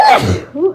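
A single sneeze bursts out at the start, a broad noisy blast that quickly fades into a short voiced tail, fairly close and loud.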